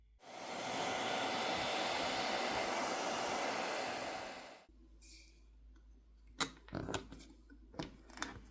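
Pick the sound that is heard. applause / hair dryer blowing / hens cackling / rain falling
hair dryer blowing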